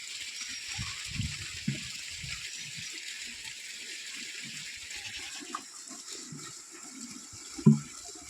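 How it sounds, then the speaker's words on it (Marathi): Cold pond water splashing and gushing steadily as people wash their hands and feet outdoors, a continuous watery rush with occasional louder sloshes and one sharp splash near the end. "इथं हात पाय धुवायला गार पाणी तळ्याचं भारीपैकी गारगार हातपाय धुतात आहे"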